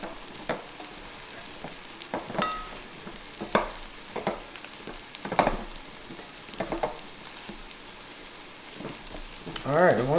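Steak fajita ingredients with onions sizzle and fry in a hot pan while being stirred, with a steady hiss and scattered scraping and tossing sounds, louder stirring bursts near the end.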